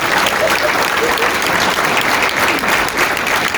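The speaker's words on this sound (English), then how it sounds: "And a big round of applause." Loud, continuous audience applause at a 2022 statewide political candidate forum, a thick uninterrupted burst of many hands clapping.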